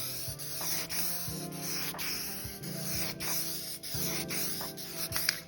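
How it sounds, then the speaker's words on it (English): Spray paint hissing onto a Honda K-Series valve cover as it gets a white base coat, in short repeated bursts with brief gaps between passes, close and steady, with no talking. "we got this K-Series valve cover here that we're gonna go ahead and spray white"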